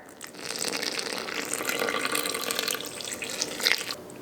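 Warm water pours steadily into a mixer bowl of flour and yeast for pizza dough, a continuous splashing rush for several seconds that tails off at the end.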